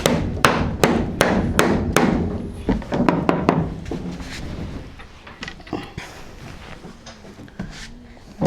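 A hammer drives nails while a house floor is laid, sharp close blows landing in a quick regular series and then thinning into scattered, softer knocks and thuds.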